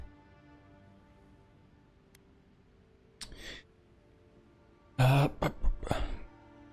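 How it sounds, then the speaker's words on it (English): A throat clearing heard twice in the video game Avowed, a short rasp first then a louder, more forceful harrumph, against a quiet low hum. "Awkwardly clear your throat."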